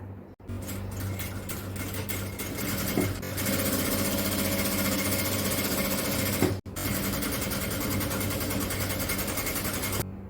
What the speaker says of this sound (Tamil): அடுத்து நாம கை துணியில இந்த பைப்பிங் துணியை வச்சு தைக்கலாம்